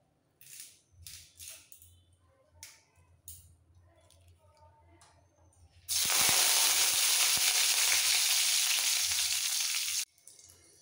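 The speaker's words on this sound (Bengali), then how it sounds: "লঙ্কা ভাজার সুন্দর গন্ধটা বেরিয়ে গেলে এর মধ্যে দিয়ে দিতে হবে একটা কারি পাতার ডাল।" Dried red chili and a sprig of curry leaves tossed into hot oil for a chutney tempering burst into a loud, dense sizzle that lasts about four seconds after a stretch of quieter talk and kitchen noise.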